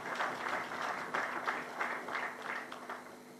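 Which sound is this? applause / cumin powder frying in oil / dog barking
applause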